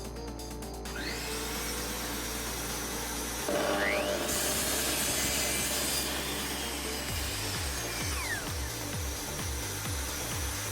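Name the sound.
mitre saw cutting an angle in a wooden workpiece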